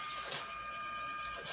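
A Uninet iColor 250 printer runs a print-and-cut job, giving a steady mechanical whir with tonal motor hum and a couple of soft clicks, quiet and continuous with no talking.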